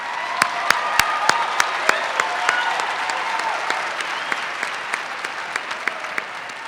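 Graduation commencement crowd at the University of Wisconsin-Milwaukee applauding steadily, dense clapping with sharp individual claps standing out near the front, sustained for several seconds with possible faint cheering.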